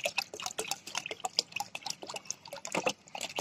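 About a litre of liquid manure is poured into a container holding roughly three litres of water, giving a close, irregular gurgling and splashing with quick drips throughout and no voices.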